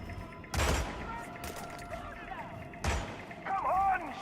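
Gunfire bursts in the Hitman video game at a Colorado mission, two short loud volleys separated by quieter ambience, with a brief synthetic chirp near the end.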